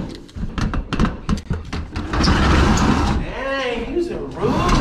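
Metal roll-up door of a storage unit opening, a rattling, scraping rumble that follows a few sharp knocks and clanks, with a voice speaking over part of it.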